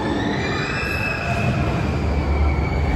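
Roller coaster train running along its rails at Phantasialand, a loud, continuous rumbling roar with a high metallic whine above it, sustained throughout.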